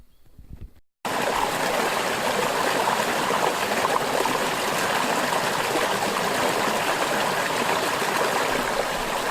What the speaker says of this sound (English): mostly you just hear the water running underneath it.